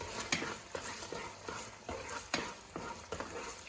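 Tuna filling ingredients are stirred in a hot pan, a spoon scraping in regular strokes about every half second over a steady sizzle, close and moderately loud.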